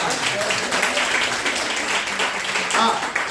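A church congregation claps at a Palm Sunday service, a continuous, moderately loud patter of many hands, with scattered voices rising over it.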